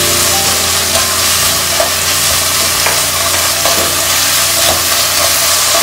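Tomato ketchup being stirred into Schezwan sauce in a hot pan for veg Schezwan fried noodles, a steady close sizzle with soft scraping strokes running continuously throughout, no talking.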